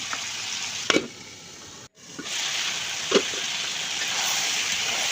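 Beef cooking in a pan with pumpkin, sizzling steadily with stirring scrapes and a brief drop in sound as the lid comes off, continuous and close.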